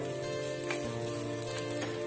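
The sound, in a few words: coriander powder sizzling in hot pan for chicken donut masala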